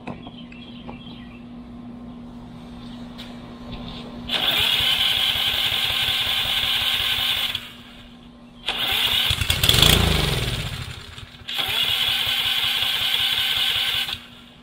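A Craftsman V20 pressure washer engine with carburetor buildup cranks on starting fluid in three loud, close bursts of several seconds each, separated by short pauses, with no one talking.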